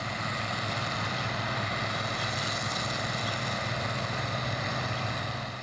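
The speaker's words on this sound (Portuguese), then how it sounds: "Na cena é possível comprovar o ruído dos motores." Constant droning hum of the engines of illegal river dredging barges moving in convoy, a steady loud low rumble with no pauses.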